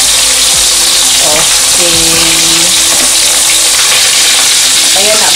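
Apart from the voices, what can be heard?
fish frying in hot oil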